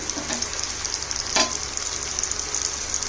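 Masala-stuffed bitter gourds (karela) sizzle steadily in a pan, a continuous bright frying crackle with one brief louder pop or stir scrape near the middle.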